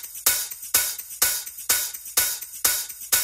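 A steady electronic drum loop for a future house beat, with bright hissy hi-hat and cymbal hits repeating about every quarter second over soft low pulses, a tight mechanical groove playing on its own.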